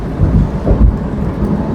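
Thunder rumbles low and heavy over steady rain during a monsoon family drive from Virar to Dahanu, with two louder rolls swelling through the continuous wash and no voices.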